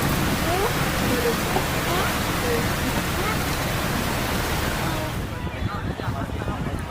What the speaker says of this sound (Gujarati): વરસાદ તો ચાલુ છે અત્યારે